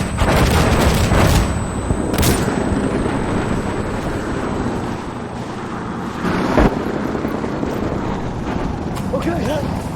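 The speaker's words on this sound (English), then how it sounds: "Helicopter." A helicopter in the shooter game Insurgency Sandstorm drones throughout with a loud rotor rumble, broken by sharp explosive booms, gunfire cracks and voices talking over the action.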